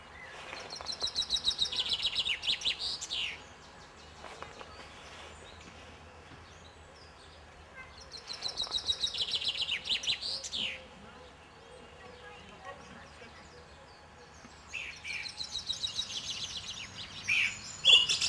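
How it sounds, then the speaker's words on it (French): A chaffinch sings three times, each phrase a bright descending trill ending in a quick flourish, separated by pauses of several seconds. "le pinson des arbres"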